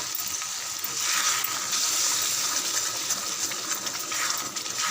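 Garlic tomato thokku sautés in a pan with water added, a steady close sizzling and bubbling hiss with faint stirring scrapes, no talking.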